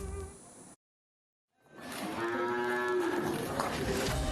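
Cattle in a village in Sidoarjo, East Java, being vaccinated against foot-and-mouth disease let out a loud, drawn-out moo after a brief silence, with a shorter sound just before, close by and without talk.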